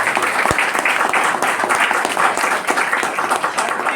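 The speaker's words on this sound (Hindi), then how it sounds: "जोरदार ताली होनी चाहिए मनोरंजन सर के लिए" A room of people at a distributor training session breaks into loud, vigorous clapping, uneven and close, with one sharp clap standing out near the start.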